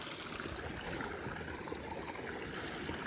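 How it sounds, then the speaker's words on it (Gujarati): Water trickling and flowing out through a small channel after stones and rags are moved aside, a soft, quiet, steady stream with faint gurgling, no voices. "જુઓ આ પાણી હે ને હવે અહીંથી નીકળશે"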